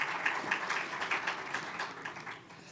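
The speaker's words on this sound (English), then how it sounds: "A round of applause for him, please." Applause from a seated audience at a national health financing dialogue, a steady, moderately faint patter of many hands clapping for about three seconds with no voices over it.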